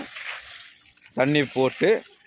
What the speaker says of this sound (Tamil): கிளிஞ்சலில் தண்ணி போட்டு இது போல் தான் தாளிக்கிறோம்